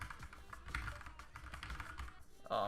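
Soft, quiet keystrokes on a computer keyboard tapping in a fairly steady stream, faint and close, with a slightly louder clack at the end and no voices.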